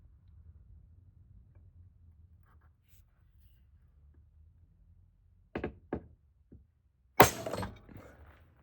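Hammer blows drive a letter stamp into a metal cover plate for an Intermatic fan timer, with a few sharp metallic strikes near the end after a quiet stretch, the last one loudest and ringing briefly.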